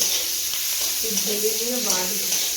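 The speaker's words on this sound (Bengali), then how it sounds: "মশলাটা লবণ আর হলুদ দিয়ে ভেজে নিই হালকা করে" Spices frying with salt and turmeric in a pan for a catfish curry, a steady close sizzle with a faint murmur of voices underneath.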